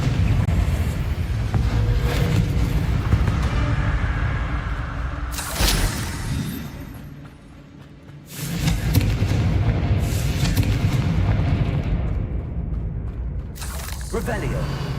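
Confringo fire spell in the Hogwarts Legacy video game: repeated loud explosive booms and bursts within a busy, continuous game soundscape, with a voice talking over it.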